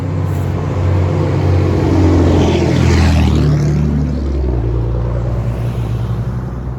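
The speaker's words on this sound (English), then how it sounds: "Loud trucks." Loud, heavy trucks roar past close by a roadside, engine pitch sweeping as they go, over steady traffic noise.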